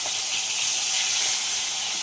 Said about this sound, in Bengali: এখানে এইটা ইলিশ মাছ ভাজছে